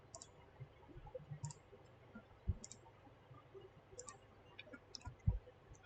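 Computer mouse clicks in RobotStudio software, a handful of sharp, faint, separate clicks spaced a second or so apart over quiet background hum.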